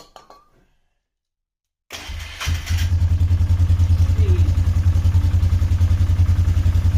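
Polaris Trailblazer ATV engine fires up for the first time after reassembly: brief silence, a cranking catch, then a loud, close, steady rhythmic idle chugging without pause.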